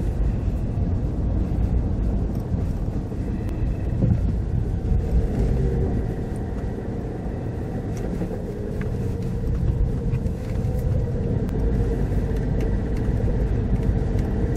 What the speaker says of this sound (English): Our vehicle is an Intrepid Czechoslovakian made Volkswagen.